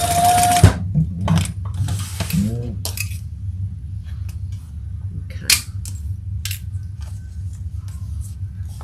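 A sewing machine bastes a seam on a bag, giving a low steady motor hum with light clicking, a few sharper taps and a brief soft voice early on.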